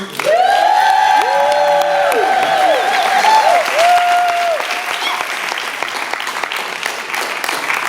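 An audience at a Kwanzaa celebration applauds for children, steady loud clapping with cheers and whoops that slowly thin out toward the end.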